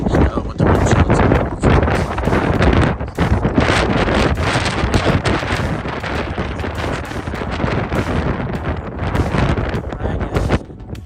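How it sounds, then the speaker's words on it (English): Strong wind buffets the microphone on an Appalachian Trail mountain summit on a cold day, roaring loud and continuous for the whole stretch with gusty surges, and a voice talks faintly underneath. "The wind's been blowing about 10 to 15 miles an hour."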